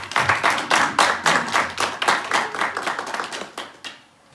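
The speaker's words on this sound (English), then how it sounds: "Please, let's give them a round of applause" A small audience gives a round of applause for the evening's host at a press conference, a few seconds of close, uneven clapping that thins out and stops.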